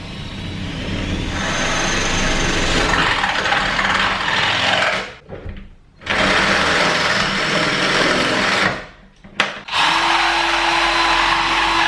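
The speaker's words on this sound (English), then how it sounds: "Now I need to draw this across and drill in here." A power drill bores into wood during a flat renovation, a loud, steady grinding whir that runs continuously, cuts out briefly twice, then resumes near the end.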